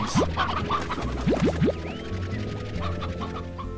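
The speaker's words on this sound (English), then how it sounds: "Oh, free chickens!" Chickens in the video game Slime Rancher cluck and chirp in short, quick calls over a steady background music loop, a few sharper squawks near the start.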